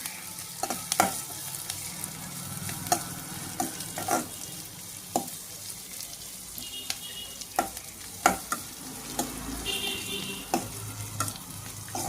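Onions frying in a pan for a beetroot fry, a steady sizzle broken by repeated scraping stirs of a spatula against the pan, close and continuous without speech.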